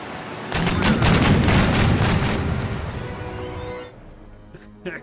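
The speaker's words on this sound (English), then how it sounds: "Broadside guns ready to go." Broadside cannon fire from a sailing warship firing round shot in Empire Total War: a dense, loud rolling barrage of booming shots that lasts about three seconds, then fades into a quieter rumble with a faint late crack.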